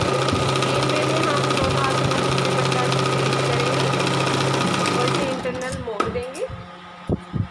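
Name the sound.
sewing machine stitching cotton salwar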